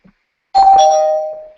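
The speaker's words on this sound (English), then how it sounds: "put a doorbell on it" A doorbell rings once, a clear, loud electronic chime that strikes sharply and then rings out and fades over about a second, alone in an otherwise silent space.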